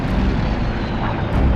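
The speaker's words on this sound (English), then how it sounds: "Dick Best, alertly recognizes the error and breaks off with two other planes to attack the Akagi." Dive bomber aircraft engines from the Battle of Midway give a loud, steady, rumbling drone that fills the whole moment without a break, with no voices.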